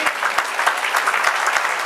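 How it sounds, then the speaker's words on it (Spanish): A church congregation applauds, a dense, steady, loud wash of many hands clapping at close range, lasting about two seconds without a break. "Dale el aplauso al Señor."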